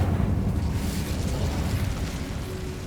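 A fire spell cast in Hogwarts Legacy: a sustained roaring, crackling burst of flame that stays loud and dense throughout, with a low rumbling body and no talking.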